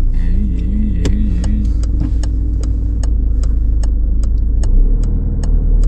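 A car during a driving lesson, its engine rumbling loud and close as it accelerates, joined by a steady series of sharp ticking clicks and a brief rising-falling whine early on.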